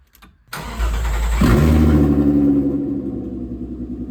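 A VW Caddy MK1 fitted with a VR6 3.2 engine sets off after more than 15 years off the road, its engine rising into a loud, close rumble that builds, then holds a steady drone.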